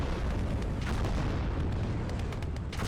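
Rocket artillery salvo from a walking Stuka in the game Gates of Hell, heard as a dense, continuous rumble of booming blasts with sharp crackling bursts toward the end, loud and sustained throughout.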